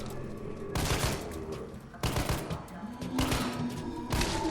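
A 9mm handgun fires in the Resident Evil 3 video game, with four loud bursts of rapid shots that crack out at roughly one-second intervals, each cutting off sharply.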